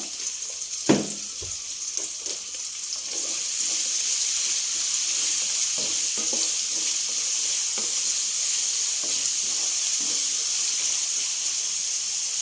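Sliced onions sizzle in hot oil in a pan for a ridge gourd masala curry, a steady close frying hiss broken by a few soft stirring knocks early on.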